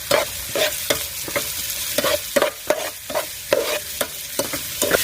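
Finely chopped onion, capsicum and garlic fry for gobi manchurian in a pan under a constant close sizzle, cut by rhythmic scraping stirs from a spatula about twice a second. No voices.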